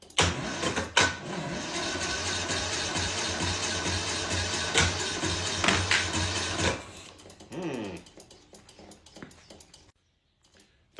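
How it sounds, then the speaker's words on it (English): A John Deere Gator TX petrol engine with a carburetor, primed with starter fluid, cranks and catches in a loud, steady mechanical run for about seven seconds, then drops to quieter sputtering before cutting out. "Threw some starter fluid in the old carburetor, so let's see if she wants to start for us at all."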